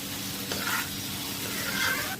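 Noodles dropped into a hot pan with soy sauce give a close, steady sizzle with soft stirring over about two seconds, and no one speaks.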